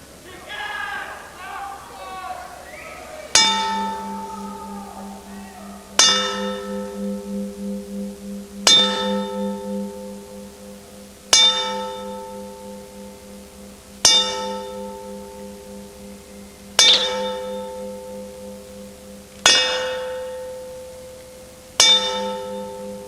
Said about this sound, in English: To those victims, we will now toll a memorial 10 bells.